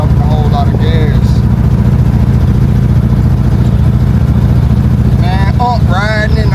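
A small-block Chevy V8 with a Holley electric fuel pump runs loud and close, a steady rumbling idle with a brief rev, while people talk over it.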